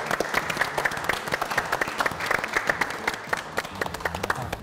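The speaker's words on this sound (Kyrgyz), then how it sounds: "Кол чабыңыздар." A studio audience applauds during a televised family game show, many hands clapping in a brisk, dense rhythm with sharp individual claps standing out, steady and fairly close throughout.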